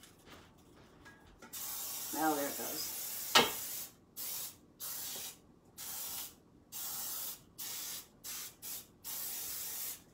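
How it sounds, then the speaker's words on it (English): Cooking spray is sprayed onto a casserole pan for chicken and rice casserole, a run of short, loud hissing bursts in a fairly even rhythm, with a voice speaking briefly before the bursts start. "So we sprayed the bottom, we sprayed our pan."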